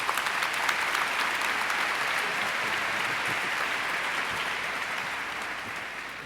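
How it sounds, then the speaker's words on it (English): Steady sustained applause from a large audience at a 2006 graduation ceremony, a dense wash of many hands clapping that holds throughout and slowly tapers slightly. "please give him a nice round of applause"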